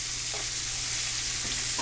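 Apples and onion sizzle and crackle steadily in a hot pan, a continuous close hiss with a faint stir or clink partway through.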